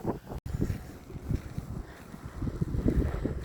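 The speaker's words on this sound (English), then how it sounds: "although it's windy, the breeze is nice" Gusty wind buffets the microphone outdoors in Wyndham, Western Australia, a rough, low rumbling roar that surges and dips steadily through the whole stretch with no voices.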